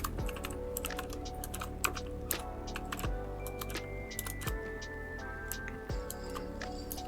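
Close computer keyboard typing, a wifi network name being keyed in, gives steady irregular clicks over a constant low electronic hum with tonal shifts, with no voice.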